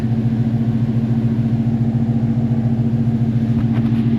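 A car engine with a new exhaust idles loudly and close, giving a deep, steady rumble with a fast regular pulsing throb that holds throughout.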